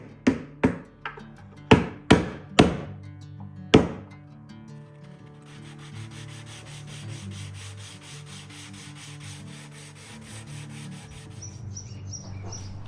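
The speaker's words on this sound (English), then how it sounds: "After completely sanding all the surfaces up to 150 or 180 grit sandpaper" Several sharp wooden knocks at the start, followed by a steady raspy rubbing of 150 to 180 grit sandpaper on walnut that continues alone at close range.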